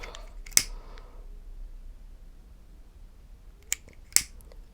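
Two or three crisp, short snips of scissors cutting ribbon, separated by quiet pauses, close up and with no talking.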